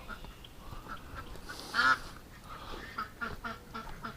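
Ducks and ducklings give a few quacks, with one louder burst near the middle and softer calls toward the end, set over a steady low background hum.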